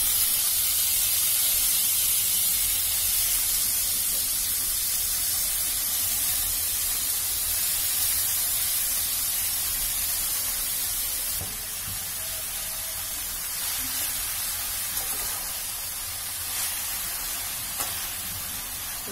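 Chopped vegetables sizzling and hissing in a little hot oil in a pan as they are stir-fried, a steady broadband frying hiss throughout that eases slightly partway through, with no talking.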